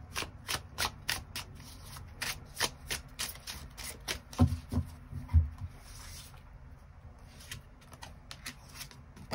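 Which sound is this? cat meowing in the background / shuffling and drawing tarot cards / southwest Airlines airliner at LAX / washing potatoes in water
shuffling and drawing tarot cards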